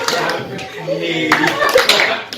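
Partners in an arts and disabilities workshop clap hands together amid a busy room, with a few irregular claps and taps mixed under overlapping voices and children talking.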